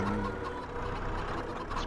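Chickens cluck softly in the video game Farming Simulator 25 amid a dense, continuous background of ambient noise, quiet and slightly distant.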